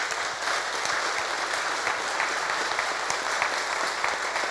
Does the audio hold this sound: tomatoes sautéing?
no